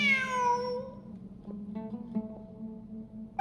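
A single cat meows in Genshin Impact, a clear falling cry at the start, then a faint steady low hum with a few soft tonal blips and no speech.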